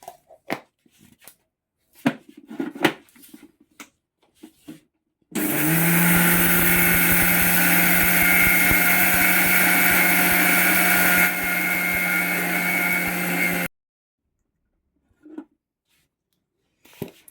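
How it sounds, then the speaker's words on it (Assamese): A kitchen mixer grinder whirs steadily as its jar grinds rice for pitha, a loud continuous motor roar of about eight seconds with a pitch shift partway, framed by quiet handling clatter before and after. "এতিয়া মই মিক্সিৰ বাতিটোতে চাউলখিনি খুন্দি লওঁ।"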